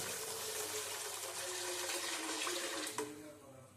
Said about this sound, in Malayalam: അതിൽ നമുക്ക് അഞ്ച് കപ്പ് വെള്ളം ഒഴിക്കാം